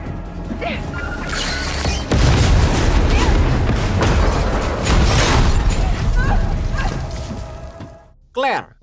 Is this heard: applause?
no